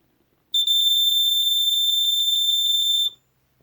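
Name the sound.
vintage smoke alarm sounding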